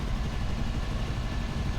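A Toyota AE86 engine idles fast and rough, misfiring on three cylinders, with a steady, dense low rumble that holds close and loud the whole time and no voices.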